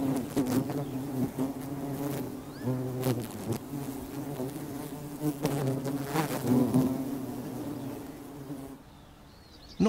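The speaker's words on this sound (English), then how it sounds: "The buzzing noise soon attracts others." Loud, steady buzzing of several male solitary bees close by, swarming a female, droning continuously and wavering in pitch before fading near the end.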